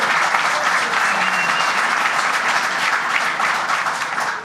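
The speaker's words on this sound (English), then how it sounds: "Let's give the TWU a big round of applause." A large audience at a public event applauds the TWU in a steady, full burst of clapping that holds level and starts to fade only at the very end.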